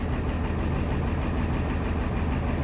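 A bus engine idles loudly and steadily nearby, a constant low rumbling drone with no voices.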